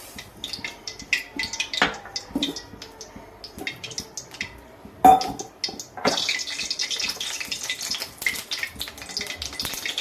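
One and a half cups of water is poured into one and a half cups of sugar in a pan to make syrup for sweet potato gulab jamun, with irregular splashing, trickling and a few light clinks.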